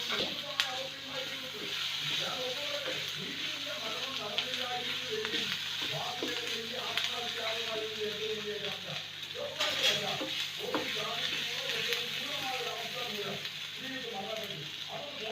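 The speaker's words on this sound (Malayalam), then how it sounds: "ഇതിലേക്ക് ഇഞ്ചി വെളുത്തുള്ളി പേസ്റ്റ്, ഉപ്പ്, മഞ്ഞൾപ്പൊടി, പച്ചമുളക്, ഗരം മസാല എന്നിവ ഒന്നൊന്നായിട്ട് വഴറ്റുക" Ginger garlic paste, salt, turmeric, green chilli and garam masala sizzle steadily in a pan for omelet curry, with continuous frying hiss and occasional scraping stir sounds while a person talks over it.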